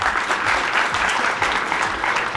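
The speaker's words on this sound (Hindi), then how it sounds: "लड़के वाले तालियां बजाओ।" A room full of people clapping steadily, a dense even patter of applause throughout the short stretch.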